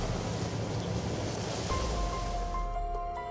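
Ocean surf washing onto an American shoreline, a steady broad roar of breaking waves heard up close, with a faint tonal hum entering partway through.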